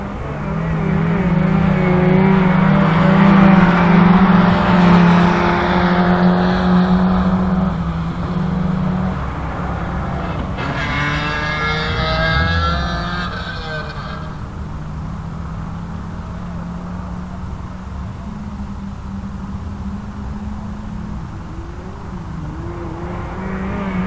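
Autograss race cars roar around a dirt track at St Neots during a B final. The engines are loud and droning, rising and falling as the cars pass, and the pack fades toward the end. No one speaks.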